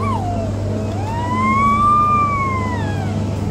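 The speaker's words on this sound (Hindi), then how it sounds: "कितनी एम्बुलेंस आएंगी आज, अनवित एम्बुलेंस" An ambulance siren passes outside a store in the UK, its wail sweeping up and down clearly over a steady low hum and ambient noise, rising slightly louder mid-way before easing off.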